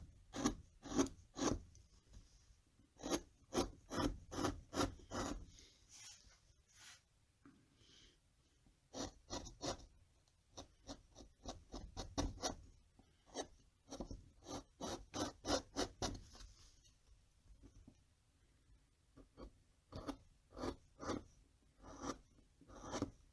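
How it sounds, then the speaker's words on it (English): A carving chisel cuts into wood while shaping a dragon, giving quiet, close scraping and rasping strokes in quick irregular clusters with short pauses between them and no talking. "See how I'm turning the chisel as I cut?"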